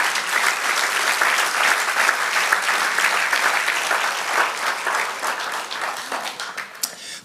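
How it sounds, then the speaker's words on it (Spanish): A church congregation gives a steady, dense round of applause for the Lord, sustained and fairly loud throughout with no voices on top. "dale un aplauso al Señor"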